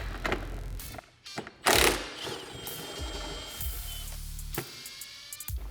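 A ratchet tool clicks and whirs up close as a T40 bolt is backed out of the bed of a Polaris RZR Turbo R, with short bursts of ratcheting, a brief metallic clatter, and quiet pauses between.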